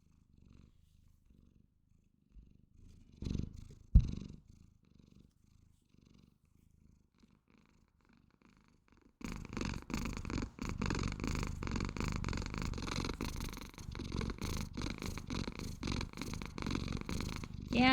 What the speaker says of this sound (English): You purring loud enough to be heard today?